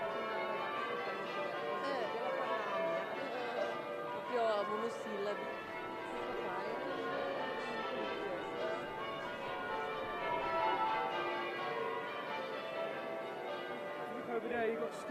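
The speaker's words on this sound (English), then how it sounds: "Just listen to the bells of Westminster Abbey." Westminster Abbey's church bells peal in a continuous cascade of overlapping strikes, heard from the London streets at a moderate distance, with occasional talk and crowd noise beneath.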